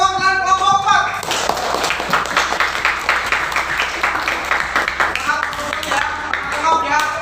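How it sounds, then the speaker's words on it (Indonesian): A classroom of students claps for a group's representative, with steady, brisk, fairly loud clapping continuing throughout after a brief opening of other sound. "Oke, tepuk tangan untuk perwakilan kelompok 4."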